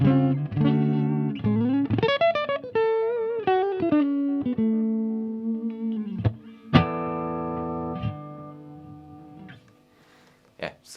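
Electric guitar riffs and bends through a plexi amp with delay in the loop, a clean-ish tone with trailing echo, notes ringing then fading, ending in a sparse, decaying tail.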